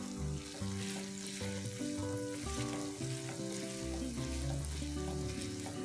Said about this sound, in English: I'm going to add that and just brown it slightly.